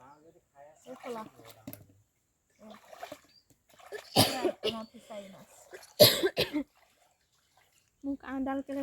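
Two loud, harsh coughs burst out close by during an outdoor fishing outing, separated by a short gap, with people talking quietly before and after.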